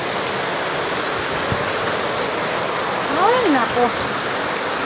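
Rain pours down steadily in a dense, even wash of noise as a storm builds, while a voice briefly exclaims partway through.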